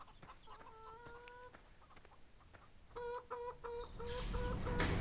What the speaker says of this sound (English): we've got the chicken coop down here for the free-range chickens to run around as they please